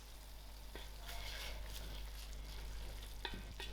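Spicy fish head curry stirred in a pan, soft sizzling under a few scraping strokes and light clinks, fairly quiet, no talk.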